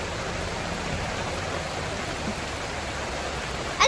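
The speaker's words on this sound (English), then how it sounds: "I have to go out in the rain." Steady rain falls at a state park campsite, a continuous even wash of drops with a brief louder patter near the end.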